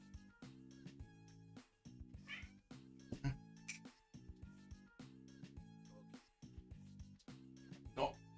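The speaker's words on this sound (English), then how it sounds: "Oh, yeah, she's meowing over." A cat meows repeatedly in short, clear calls spread over several seconds, sounding close, over a steady tonal music bed from a Civilization VI game.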